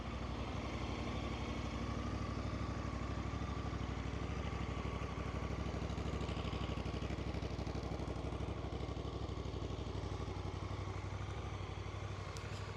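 A 2023 Honda Hawk 11 motorcycle with about 1,200 km on it idles close by, a steady, even chugging rumble that continues unchanged throughout.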